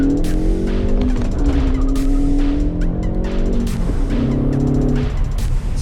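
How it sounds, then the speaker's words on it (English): A Ford Focus ST accelerates hard with traction control on, tires spinning heavily through first and second gear; a loud, rising engine note shifts pitch between gears, with tire noise throughout. "Spun pretty heavily in 1st and 2nd gear. That's with traction control on."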